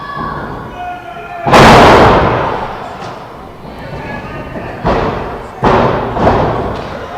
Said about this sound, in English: That thud was Caviar dropping Motley in a sidewalk slam right onto his back.